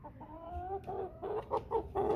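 Chantecler x Bresse pullet clucks and murmurs at close range, a series of short, tonal, wavering calls in quick succession, moderately loud with no voices.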